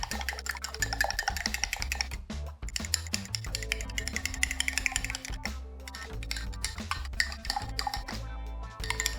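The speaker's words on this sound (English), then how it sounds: "I'm gonna give this a nice little stir to get that wasabi incorporated" Wasabi being stirred into a cocktail, a steady run of small clinks and scrapes of a spoon against glass with faint kitchen clatter, close and continuous.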